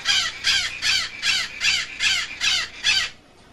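A bird called Good Bird caws loudly and close, eight harsh crow-like calls in a steady, evenly spaced rhythm, each about a third of a second long, then stops.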